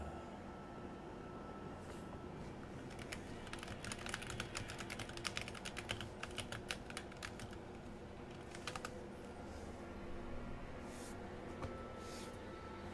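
Typing on a computer keyboard during a gaming session: quiet, irregular clusters of close key clicks, denser in the middle, over a faint steady background hum.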